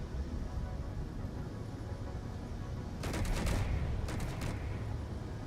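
Enemy gunfire answering back in a video game: two quick, clipped bursts of rapid shots, moderately close, breaking through a steady hiss of background noise.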